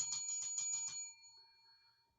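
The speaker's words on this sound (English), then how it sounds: "Let's ring that bell." A bell rings in a quick run of about six rapid strikes over the first second, bright and close, then its ringing fades into near silence.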